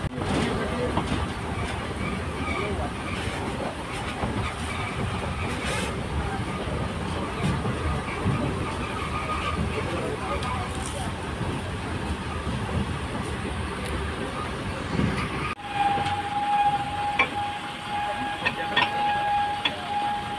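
A toy train in Vizag runs with a steady rumble and rattling clickety-clack on its rails from the inside, while people talk over it, and a thin whine comes in near the end.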